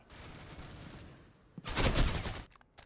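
Burst of rapid gunfire in the competitive shooter C-OPS during a tournament match, a short loud volley after a quieter stretch of game ambience, with a couple of brief trailing shots.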